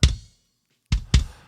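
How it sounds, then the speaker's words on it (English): Three isolated kick drum hits captured by a microphone inside the drum, punchy and attack-heavy with a sharp click and short low thump, one hit then a pause and two close together, loud and alone. "I have a mic on the inside of the kick drum"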